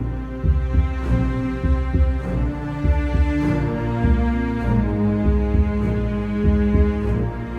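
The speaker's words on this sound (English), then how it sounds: "The marimba's going to echo it." A marimba in game music echoes a minor-scale motif with repeated low, resonant mallet notes in a steady pulsing rhythm, loud and sustained with no voices.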